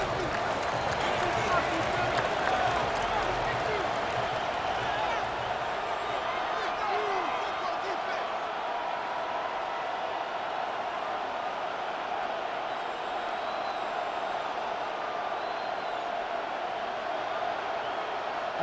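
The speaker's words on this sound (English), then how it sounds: "The crowd making their presence felt." Stadium crowd noise in the football video game Madden NFL 26, a steady loud roar of a packed stadium sustained throughout, with scattered claps and thumps.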